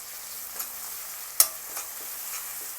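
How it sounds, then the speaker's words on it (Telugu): Finely chopped capsicum is stirred in a pan for a green peas bread chaat, giving a soft, steady frying hiss with a few scraping stirs and one sharp clack of the spoon near the middle, with no voices. "సన్నగా తరిగిన క్యాప్సికం వేసుకోవాలి. ఒక్కసారి కలపాలి."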